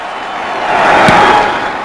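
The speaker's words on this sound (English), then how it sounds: "you hear the cheer" Stadium crowd at an NFL football game between the Panthers and Raiders roaring in a steady, swelling wash of cheers, broad and distant-sounding, peaking briefly in the middle.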